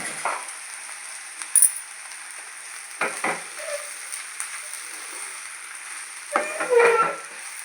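Ginger paste frying in a pan for egg fried rice, a soft continuous sizzle broken by a few louder stirring scrapes and spatters.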